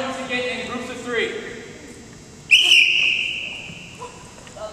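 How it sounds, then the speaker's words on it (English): A coach's whistle gives one loud, sharp blast midway through a physical education class playing Frisbee and Dog and Bone games, set against earlier talk and background noise. "Then when I blow my whistle, I want everyone to get in groups of three."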